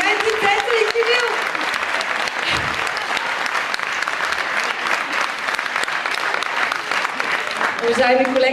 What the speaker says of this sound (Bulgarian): Аплодисменти, Петър и Кирил!